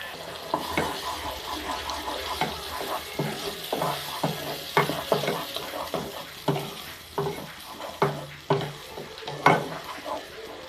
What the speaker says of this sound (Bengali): এবার মশলাটা সুন্দর করে কষিয়ে নিব